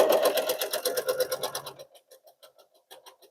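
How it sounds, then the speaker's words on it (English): Close sewing machine stitching quilt pieces, a fast rhythmic needle chatter that slows to a few separate stitches and then single clicks as it stops. "line this up and sew right through that point"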